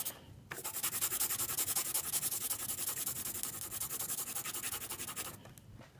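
A graphite pencil scratches rapidly back and forth on a sheet of paper, a steady close rasping rhythm lasting several seconds before stopping abruptly.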